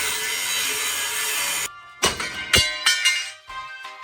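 A saw fitted with fresh blades cuts into Ford F150 truck parts with a loud, continuous rasping grind. It then stops abruptly and is followed by several sharp metallic clanks and knocks.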